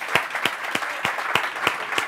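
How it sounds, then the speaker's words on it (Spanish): Audience at a presentation of a memory project at Casa África claps in steady unison, a sharp burst roughly every third of a second, moderately loud and close, with no talk over it. "Yo voy a pedir ya un aplauso para ellos dos"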